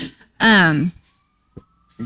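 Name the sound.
sirens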